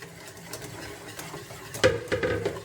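A chocolate pastry cream is stirred in a pot while the milk heats. Soft, steady scraping strokes continue throughout and grow louder and choppier toward the end, with no talking.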